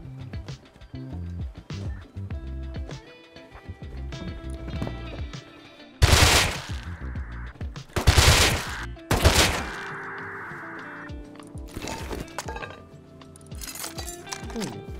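Bursts of MP5 gunfire in the survival game Rust, loud rapid volleys with several separate bursts around mechanical clicks and game effects, with no talk.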